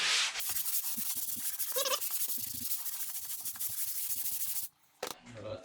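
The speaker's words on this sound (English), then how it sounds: "now take your sanding block" Sanding block rubbing back and forth over a drywall repair patch, a steady close scraping hiss in quick strokes that stops briefly near the end.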